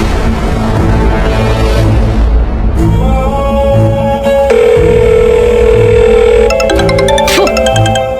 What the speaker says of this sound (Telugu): అమ్మా, మనమ్మగారు ఫోన్ చేశారు